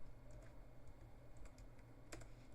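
Soft, irregular key clicks come from a computer keyboard, faint and close, over a low steady background hum, with no one talking.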